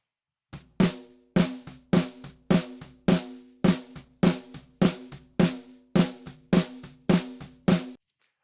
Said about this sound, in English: shooting for some more body and weight on the 200 hertz there on the snare bus